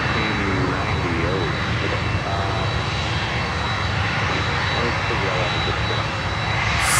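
A USAF C-17 transport jet at Miami airport roars steadily with broadband engine noise and a thin high whine, loud throughout, and a voice seems to be talking under it.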